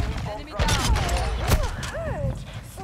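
SAB 50 rifle fire in Modern Warfare 2 gameplay, with several sharp shots and bursts over about three seconds alongside game sound effects and a player's voice.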